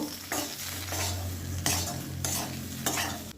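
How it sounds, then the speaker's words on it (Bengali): Fried papaya is stirred into a coriander cumin spice paste in a pan, a constant close sizzle broken by a few sharp scraping strokes of the spoon, with no speech. "পেঁপেটা দেওয়ার পর মশলার সঙ্গে এক মিনিট কষিয়ে নেব"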